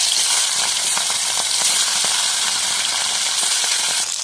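Fish fries in hot oil with a loud, close, steady sizzle and hiss, scattered with small crackling pops, and no voices over it.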